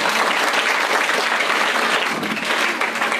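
Dense, loud applause from a crowd cheering school children and staff at a school gathering, a continuous clatter of many hands clapping together throughout.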